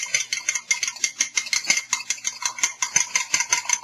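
Eggs for German brownies are whisked in a bowl, a rapid, even run of metallic clicking strokes against the bowl, close and steady, with no voices over it.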